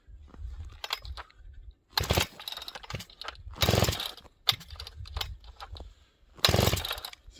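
A big chainsaw is pull-started by recoil in -25 degree cold, heard as several sharp, ragged bursts of cranking and sputter separated by short pauses, fairly close and with no talk.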